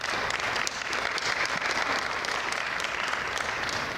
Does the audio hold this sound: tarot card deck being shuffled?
no